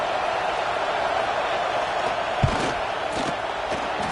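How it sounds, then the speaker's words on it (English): A stadium crowd at a football game roars steadily to rattle the kicker, a loud, unbroken wall of noise with a single sharp thud partway through. "This crowd trying to do its part to get inside the kicker's head."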